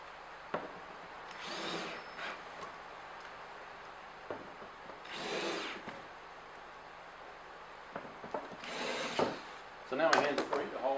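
Power driver bursts starting screws into pre-drilled holes in cabinet parts, three short whirring runs spaced a few seconds apart with clatter of parts between, close and moderately loud.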